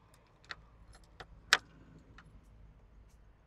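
Motorcycle keys jingle softly with a handful of light, scattered metallic clinks, one brighter chime standing out, over quiet background hum.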